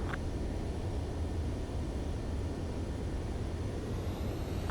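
A jet aircraft makes its landing approach in the Ace Combat 7 video game, a steady broadband engine roar and rushing air noise holding constant for a few seconds with no voices.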